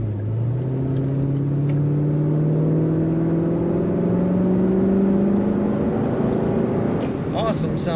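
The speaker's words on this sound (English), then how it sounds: "Awesome sound coming out the back of this Corvette" A 2012 Chevrolet Corvette Grand Sport 4LT convertible accelerates, its exhaust rising in a loud, deep rumble that climbs steadily through the revs, up close, with a brief voice near the end.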